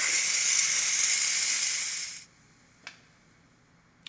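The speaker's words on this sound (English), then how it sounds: "I'm gonna go ahead and manually release the remaining pressure" A Ninja Foodi pressure cooker vents steam in a loud, steady hiss that runs for about two seconds and then cuts off sharply, followed by two short faint puffs.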